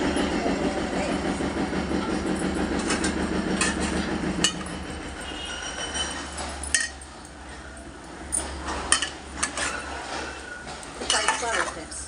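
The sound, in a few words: potatoes added to pan for aloo korma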